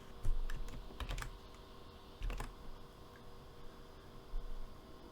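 Typing code on a computer keyboard: quiet, close key taps in short uneven bursts with brief pauses between, several clustered strokes standing out over a faint background hiss.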